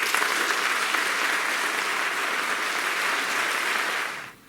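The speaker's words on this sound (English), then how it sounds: "Please join me in a round of applause for all the pupils" Sustained, dense applause from a large audience at a school prizegiving ceremony, steady and loud for about four seconds before fading out at the end.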